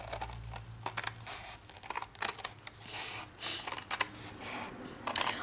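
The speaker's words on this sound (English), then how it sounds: "I'm going to cut the edge off" Scissors snip through the edge of a cardboard pasta box that has a small plastic window, with several crisp cuts and crinkles close by, and nobody speaking.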